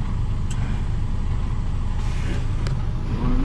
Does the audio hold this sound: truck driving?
yes